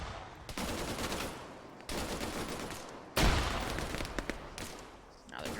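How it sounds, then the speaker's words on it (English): Dense gunfire in an Arma 3 prison-escape multiplayer operation: bursts of rapid shots and volleys in sustained stretches separated by brief pauses, with a loud close crack partway through. "I think they're shooting at Big Duncan's body"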